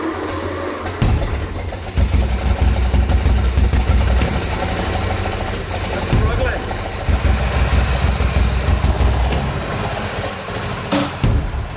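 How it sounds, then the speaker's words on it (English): The weak engine of an old 4-wheel drive vehicle cranks and struggles to turn over, a rough, labouring mechanical churn that repeats in uneven surges while people talk over it. "it's actually struggling to turn the engine over, never mind move the beast. It sounds very weak."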